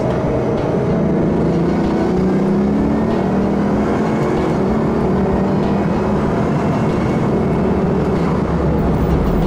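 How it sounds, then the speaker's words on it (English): A Bugatti accelerating hard up to about 140 mph, heard as a loud, continuous engine roar with rising pitch and steady wind noise throughout, with no voices. "When you step on the acceleration pedal, on the gas pedal, the thing just goes."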